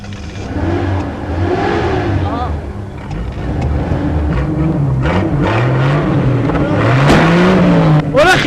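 An ambulance engine revs in rising and falling surges, loud and close, while people talk over it.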